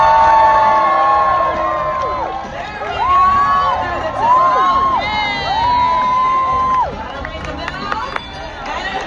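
Spectators at a dog audition show cheer and shout steadily, with long whoops and high shrieks rising and falling over a busy crowd roar; some talking mixes in.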